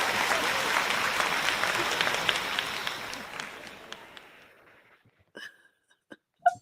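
Applause welcomes a guest onto a show, a full wash of clapping that gradually fades away, leaving a few scattered claps and brief sounds at the end.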